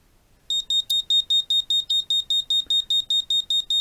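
A piezo buzzer wired to a Raspberry Pi Pico sounds a rapid run of sharp, high electronic beeps in a steady pulse, each beep cleanly spaced, loud and close with no talking.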